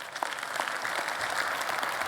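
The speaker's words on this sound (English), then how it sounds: "Give her an applause." Conference audience applauding a panel moderator as she is introduced at a digital infrastructure investment event, a steady moderate clatter of clapping lasting a couple of seconds, somewhat distant in a large hall.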